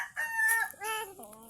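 A rooster crows once, a long rising and falling cock-a-doodle-doo, fairly close and clear with no talking.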